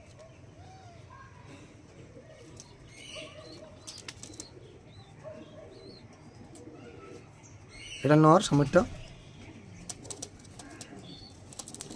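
Black diamond pigeons coo softly and steadily at close range. A sudden loud burst of wing flapping comes partway through, and someone talks over the birds.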